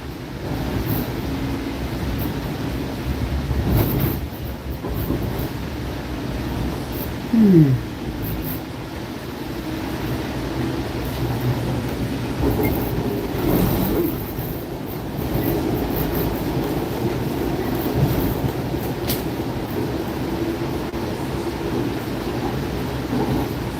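On board a Hudson-Bergen Light Rail train, a steady interior rumble and hum carry through the whole stretch, with occasional rattles, a brief squeal and shifts in track noise as the car rolls along.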